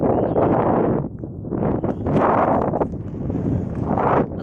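Strong gusty wind buffets the microphone in surging waves, loud and close, with a brief lull in the middle, at a seaside fishing spot in Simaisma, Qatar.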